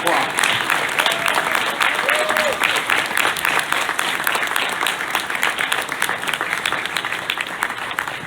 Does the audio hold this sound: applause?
yes